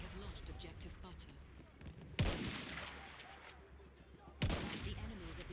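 Artillery barrage and gunfire in the video game Battlefield 1 on the Sinai desert map, a faint continuous rumble of distant shelling and small-arms fire punctuated by two sharp, louder blasts.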